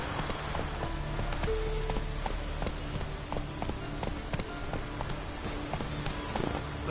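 Roach, the horse in The Witcher 3, trots along with steady, even hoofbeat clip-clops, moderately close amid a light ambient wash and no talking.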